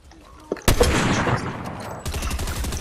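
Video game gunfire on PlayStation arrives as a sudden loud burst of shots, then trails off into rumbling echo before a second volley cuts in near the end.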